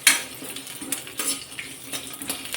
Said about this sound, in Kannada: ಇದನ್ನೀಗ ಚೆನ್ನಾಗಿ ಫ್ರೈ ಮಾಡ್ಕೋಬೇಕಾಗತ್ತೆ